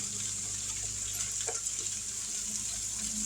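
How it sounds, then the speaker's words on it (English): Cabbage, cut up from a small head, frying in bacon grease in a pan, giving a steady, soft sizzle throughout with faint clinks and stirring noises, no one talking. "So we're going to let this cook in this bacon grease."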